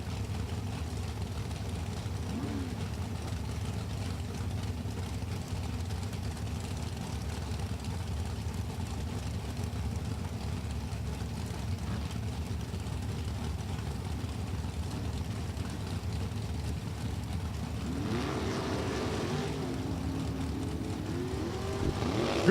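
Super Comp drag race cars at National Trail Raceway stage with a steady, loud engine idle rumble that continues throughout, then rise into revving launches near the end as the cars leave the line.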